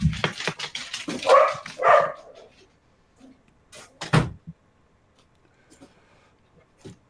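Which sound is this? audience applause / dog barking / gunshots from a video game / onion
dog barking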